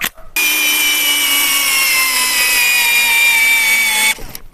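An Einhell TP-CD 18/12 cordless drill driver runs steadily for about four seconds on a battery in 5-amp mode, giving a loud, even motor whine that starts and stops abruptly, with no talking.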